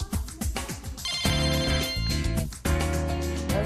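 A telephone rings loudly in a home where a housewife was watching TV. The ringing is a bright, dense electronic tone that repeats in bursts with no talking over it.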